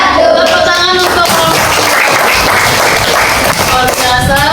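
A classroom group claps and applauds loudly and continuously, dense and close, with voices mixed in.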